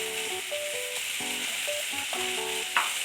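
Cumin powder frying in oil in a pan for a rohu fish kalia curry, a steady close sizzle with clinks and scrapes of a spoon stirring throughout, no talking.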